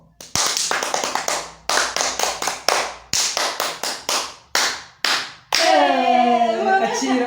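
A family at home claps during a game: a run of sharp, close hand-clap bursts in uneven groups, followed by a loud cheer and shouting voices at the end.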